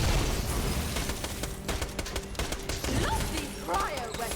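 Cryo weapon gunfire in Borderlands: The Pre-Sequel, rapid volleys of sharp shots in a dense fusillade, close and loud, with game effects and a voice talking over it.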